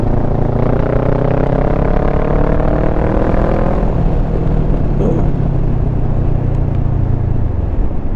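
A Kawasaki Versys 650 parallel-twin motorcycle riding along a back road gives a loud, continuous engine drone with wind roar, the pitch rising and then easing off.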